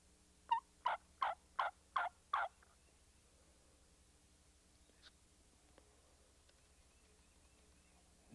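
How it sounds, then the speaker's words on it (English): A wild turkey gobbles six times in a quick, evenly spaced run from a moderate distance outdoors, followed by near-silence with faint background hum. "You know, we may get a chance at this turkey."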